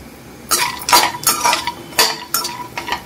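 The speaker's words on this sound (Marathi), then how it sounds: "पुन्हा आपल्याला तुपामध्ये हे बदाम सुद्धा व्यवस्थित फ्राय करून घ्यायचे." Almonds fry in ghee while a spoon stirs them in a metal pan, making close, loud scraping clinks in irregular bursts over a soft frying hiss, with no talking.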